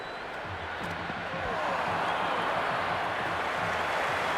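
A crowd at a Cricket 26 match between CSK and RR roars as a broad, steady wash of noise that builds and grows louder partway through, while a low voice murmurs underneath.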